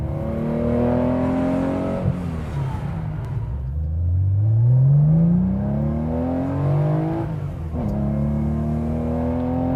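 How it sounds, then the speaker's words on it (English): A 1971 Porsche 911T pulls hard up through the gears on a freeway, its engine rising in pitch, dropping at each shift around two and eight seconds, then climbing again in a loud, continuous run. "Let's take it up on the freeway and let's see if we can at least get it in fourth gear."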